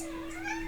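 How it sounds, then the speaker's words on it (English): A cat meows indoors, a drawn-out, rising and falling cry lasting under a second, close to the microphone and heard alone without talk. "My cat just keeps getting into everything."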